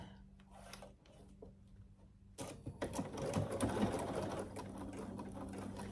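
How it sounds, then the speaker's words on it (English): Domestic sewing machine stitching a fabric pouch, its steady motor hum starting partway through and running continuously, with faint handling noises before it and no talk in the clip. "So I don't have to back stitch with this machine either, because it does a back knot stitch for me."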